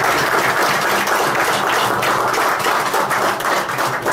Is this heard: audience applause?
yes